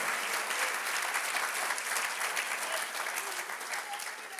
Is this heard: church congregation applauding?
yes